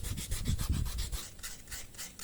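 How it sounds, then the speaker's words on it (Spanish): Alabaster stone sanded by hand with coarse 60-grit sandpaper, a close, steady rasping rub in repeated strokes, heavier at first and then lighter and hissier. "La lija del 60 ya está pasada"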